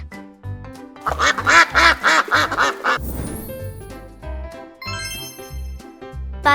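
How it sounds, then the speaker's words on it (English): A cartoon-style duck quacks in a quick rhythmic series of loud, bright calls over a bouncy musical backing, with chimes and tinkling notes following. "Duck."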